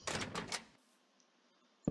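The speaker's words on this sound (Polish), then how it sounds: "musieliśmy, żeby te drzwi zamknąć" A wooden door shutting in the Minecraft video game, a short burst of clacking thumps followed by quiet and a faint click at the end.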